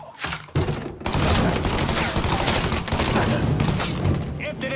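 Sustained gunfire in the video game Mafia 3, a dense burst of rapid shots that starts abruptly after a brief pause and keeps up loudly to the end.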